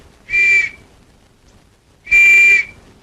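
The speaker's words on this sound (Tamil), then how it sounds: "அப்புறம் ஏன் விசில் ஊதுற?" Two loud, sustained whistle blasts, each lasting about half a second and roughly two seconds apart, sounding alone against near-silence in a comedy scene involving a police station.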